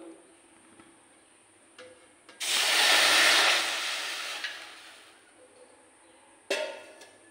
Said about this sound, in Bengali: আমি এই লুচিটা বানানোর জন্য কড়াইয়ের ভিতর দিয়ে দিচ্ছি জল